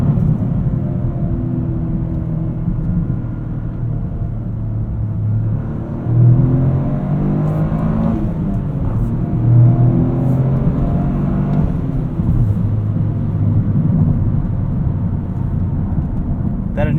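2023 Toyota GR Corolla engine pulling from around 3,000 RPM on a street drive, a deep cabin rumble that builds and shifts through gears while someone talks over it.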